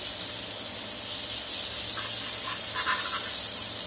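Fish frying Kerala style in oil on a flat tava over a medium flame gives a steady, even sizzling hiss that holds at constant loudness throughout, with no talk.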